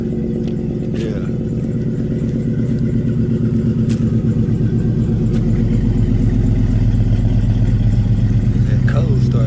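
A station wagon engine idles steadily just after a cold start, a loud, close, continuous low rumble with a lumpy pulse and some clatter, holding constant throughout.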